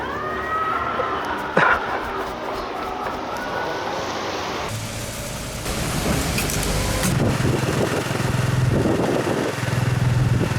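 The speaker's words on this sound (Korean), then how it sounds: "저도 이제 오토바이를 끌고 왔습니다" A delivery motorcycle is ridden on city streets, its engine hum rising after the first few seconds and continuing steadily and fairly close, with a dog barking briefly early on and no talking.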